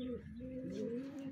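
A pigeon coos close by at a racing pigeon derby in Pasacao, Camarines Sur, a low, throaty, rolling call continuing steadily through the short moment.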